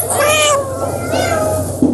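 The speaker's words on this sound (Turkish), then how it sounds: "Bu özellikler dünyaca ünlü van kedilerine ait." A Turkish Van cat meows twice close up, each call a loud, drawn-out tonal cry separated by a short pause, with no other sound around it.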